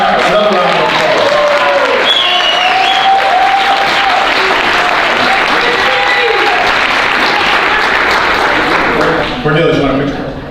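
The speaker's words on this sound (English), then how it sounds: "Let's give him another round of applause." Sustained, loud applause from an audience at a Black History celebration award presentation, with a voice speaking over the clapping before it fades near the end.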